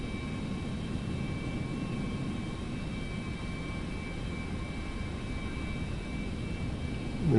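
A Citation X business jet taxiing in Microsoft Flight Simulator 2024, a steady, even engine hum and rumble that holds at a constant level throughout, with no talk.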